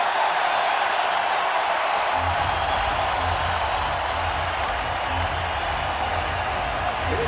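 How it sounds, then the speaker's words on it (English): A Creighton home crowd at a Big East men's basketball game in Omaha roars and cheers steadily throughout, a dense wash of arena noise with a low murmur swelling underneath after the first couple of seconds. "And the crowd alive in Omaha."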